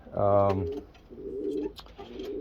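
Caged pet birds coo with a deep, rounded, pulsing call that opens loud and close, followed by softer, lower coos, with a faint voice briefly in the background.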